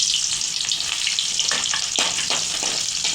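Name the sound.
onions frying in hot oil for egg rice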